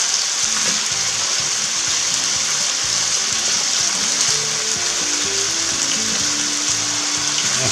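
Chicken pieces fry and brown in a pan, making a loud, continuous crackling sizzle that stays dense and even throughout, heard close with no voices.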